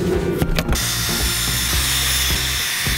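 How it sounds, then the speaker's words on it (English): Power drill boring pocket holes while bookshelf columns are installed into a built-in frame, a steady whirring motor with short bursts and pauses, close and loud, no talk. "More pocket holes."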